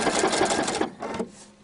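Sewing machine stitching ribbon, running steadily in a fast continuous whir that stops, then two short bursts of stitching, close and loud.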